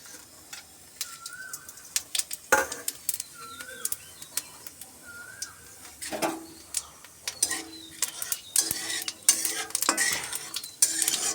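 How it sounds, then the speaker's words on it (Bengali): Panch phoron spices frying in hot oil in a wok, a soft sizzle under clattering utensil stirs and scraping, with birds chirping faintly in the background. "একটু 5 ফোড়ন দিয়ে দিলাম।"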